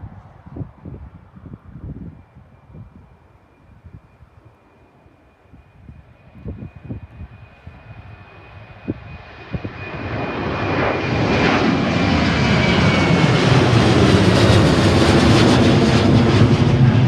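A Ryanair jet airliner takes off from runway 32 at Leeds Bradford Airport, beginning as a faint distant whine with scattered knocks and swelling into a loud, sustained broadband engine roar that holds steady through the end.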